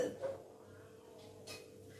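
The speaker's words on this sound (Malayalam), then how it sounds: "കുക്കർ അടച്ച് വെച്ചിട്ട് നമുക്ക് തീ കൂട്ടി വെക്കാം" A pressure cooker lid is closed on a pot of curry, giving a short metallic clank near the start and a second brighter clatter about midway, close by over a steady low kitchen hum.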